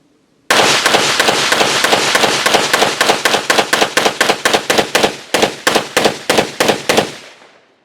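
A Smith & Wesson M&P 22 Magnum pistol fires a rapid string of roughly thirty sharp, loud, close cracks at an even pace, with a brief pause near the end before the last few shots.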